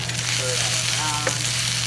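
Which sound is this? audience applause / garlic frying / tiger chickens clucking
garlic frying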